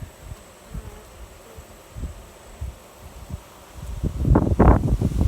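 Honey bees buzz around an open Layens hive on a windy day, a low hum under soft wind rumble and rustling, growing busier and louder near the end.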